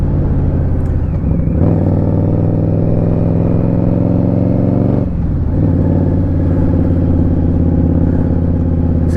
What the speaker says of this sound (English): wind the power on, and of course it'll just shoot off